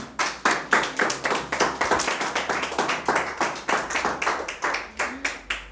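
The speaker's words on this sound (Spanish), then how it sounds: "Póngase de pie y denle un aplauso al Señor" A standing church congregation claps in praise during a sermon, with crisp individual claps in a quick, fairly regular rhythm from a modest group, loud and close, with no speech over them.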